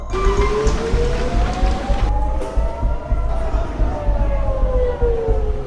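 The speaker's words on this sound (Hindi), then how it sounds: "पूरे इजराइल में हवाई हमलों के सायरन बजने लगे" Wailing air raid sirens across Israel during an Iranian missile attack, rising and falling slowly, loud and sustained, with a noisy rumbling background like rain or a distant crowd.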